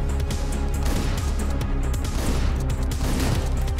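Gunfire in the video game Hotline Miami 2, with rapid bursts of shots and crashing hits layered over a dense, loud backing track, continuous throughout.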